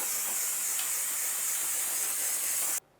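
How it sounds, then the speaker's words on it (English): Parts cleaner sprays in a steady, loud aerosol hiss onto the rear drum brake area of a 2007-2012 Nissan Sentra, running continuously for nearly three seconds before stopping abruptly. "Let's just go ahead and use some parts cleaner with a nice collection receptacle under there."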